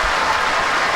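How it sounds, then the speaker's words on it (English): Loud, dense applause from a group fills a very short moment, a continuous wash of clapping heard close. "Can you give yourself some applause right there?"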